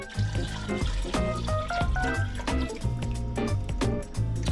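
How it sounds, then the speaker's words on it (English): Water is poured into a large saucepan holding ham hock and corned beef, giving a close, irregular glugging and splashing with rising tones as the pot fills. "we're just gonna keep on adding water."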